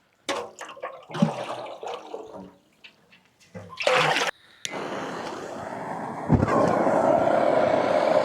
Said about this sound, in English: walk it down to the ocean, and fill it up with seawater